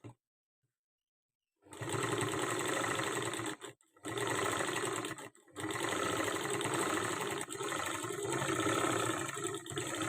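An electric sewing machine runs close and loud, stitching thread piping onto a blouse, with a steady whirring hum that starts after a brief silence and pauses twice for a moment.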